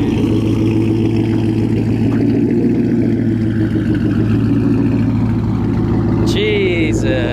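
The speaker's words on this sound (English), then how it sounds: "The car is ridiculously loud and it actually has the speed to match it up with" A loud Mustang engine revs and rumbles steadily close by, with a throaty low drone throughout; a brief higher whine appears near the end.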